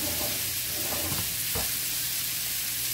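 Garlic frying in a pan for shrimp salad, giving a steady close sizzle with a few soft clinks and scrapes, no talking.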